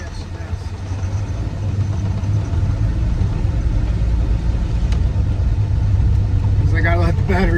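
A 1969 Ford van engine with a newly installed Pertronix electronic ignition idles steadily, a close, even low rumble running throughout with a voice heard briefly near the end.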